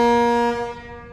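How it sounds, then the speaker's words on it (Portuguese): A ship's horn blasts at the Barra Bonita canal lock with a deep, steady tone, loud and close, then fades over about a second. "Até arrepia essa buzina, né? Marítima."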